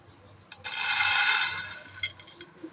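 Sorghum grains tumble into a hot frying pan while popped sorghum is made, a bright, hissing rattle of kernels hitting the metal for about a second before it thins out into a few scattered clinks.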